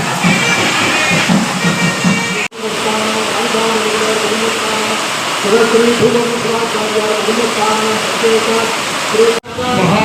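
Heavy rain pours down during a Panguni Uttiram festival at a Murugan temple, a loud continuous wash of noise. Crowds of devotees are present, and voices and tonal sounds run through it, broken by two abrupt cuts.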